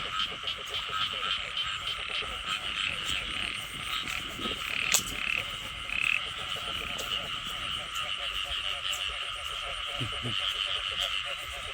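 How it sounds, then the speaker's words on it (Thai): Dense chorus of frogs croaking at night during a frog hunt, a steady overlapping pulsing din with a few louder nearby calls and occasional human voices underneath. "ทั้งเสียงกบเสียงเขียดห้องไปนำพี่น้อง"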